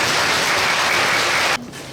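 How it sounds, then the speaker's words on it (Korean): A church congregation claps to welcome the pastor at an anniversary ordination service, a dense, loud, even wash of applause that stops abruptly near the end. "우리 기쁜 마음으로 감사하는 마음으로 축복하는 마음으로 박수로 환영하겠습니다"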